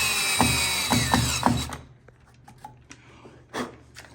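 A power drill drives a screw into a new swinging screen door, whirring in several short bursts before stopping, followed by faint handling clicks and taps.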